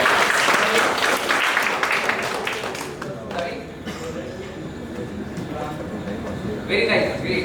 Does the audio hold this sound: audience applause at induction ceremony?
yes